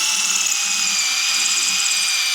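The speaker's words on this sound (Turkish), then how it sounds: "Şimdi orayı deldik ya." A power drill bores holes into a living-room wall for screws during a home renovation, whining loudly and continuously at close range with a steady high-pitched motor tone and no pauses.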